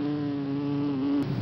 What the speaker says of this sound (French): Tu l'entends son la mouche ou pas?